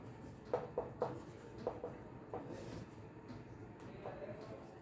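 A pen writes an adjoint matrix by hand, giving a string of faint, short scratching strokes in an uneven rhythm over a low background hum.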